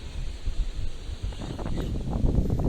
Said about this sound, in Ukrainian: Вітер у мене тут просто треш.